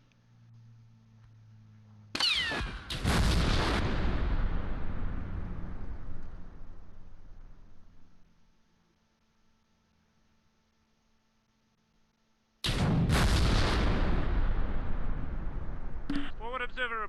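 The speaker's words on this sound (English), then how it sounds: "And the artillery's already dropping." Artillery barrage falling in a Close Combat battle at Cheux, Normandy, 1944: two heavy, loud blasts with long rumbling decays, the first near the start and the second near the end, separated by quiet.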